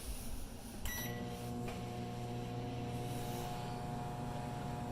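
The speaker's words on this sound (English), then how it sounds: "With the microwave on" A microwave oven runs with a steady low electrical hum and drone, a faint click near the start, playing alone and fairly quietly.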